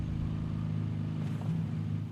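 A sports car engine idles nearby with a steady low droning rumble and a faint rise partway through.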